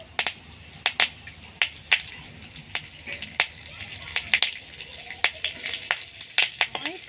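Curry leaves fry in two spoons of hot ghee, spitting out sharp irregular pops and crackles over a soft background sizzle, close and fairly loud, with a voice faintly in the background.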